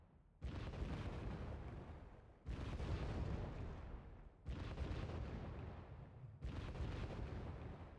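Artillery and mortar fire in Wargame Red Dragon: four heavy, rumbling blasts land about two seconds apart, each booming and slowly decaying into the next, fairly faint and distant with no talk.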